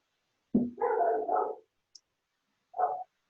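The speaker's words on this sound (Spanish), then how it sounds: "Lo escucho al perro." A dog barks indoors: one longer, slightly growly bark burst followed by a short single bark after a pause, moderately near and alone, with no talking over it.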